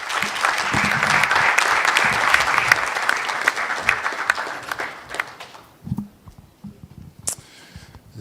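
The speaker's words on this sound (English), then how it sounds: "This is how you clap for sponsors." An audience claps for sponsors at the NSMQ 2025 national championship launch, loud dense applause that thins out after about five seconds into scattered, sharp individual claps.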